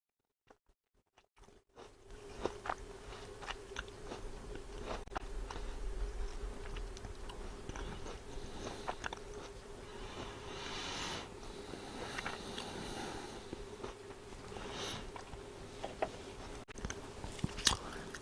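Someone bites into and chews an apple close to the mic, with repeated crunchy bites and wet chewing running steadily over a faint electrical hum, with no talk.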